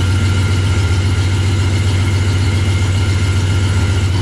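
A Corvette engine with a newly installed Powerglide transmission runs steadily in first gear, a loud continuous low rumble heard up close for the whole stretch, with no talking.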